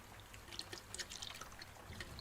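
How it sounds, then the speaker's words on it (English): Water sloshes faintly inside a small snow globe as it is shaken, making soft trickling and splashing sounds close to the microphone with no talking. "That's my little snow globe."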